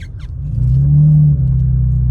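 A car engine fitted with a new Mopar air intake rumbles loudly up close, swelling into a brief rev that hums deeply before easing back to idle.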